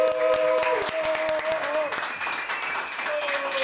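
A studio audience claps to welcome a Colombian music guest, a short burst of applause mixed with voices and tonal sounds, fading slightly midway.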